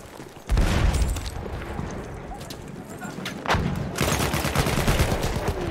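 Battlefield 1 gunfire on an Empire's Edge map: dense bursts of rapid shots and booming blasts with heavy low rumble, loud and continuous, swelling again midway and near the end.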